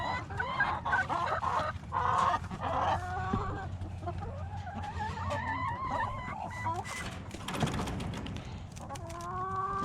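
A hen named Myrtle clucks close by on a homestead, repeated short chattering clucks and rising calls while someone talks over them.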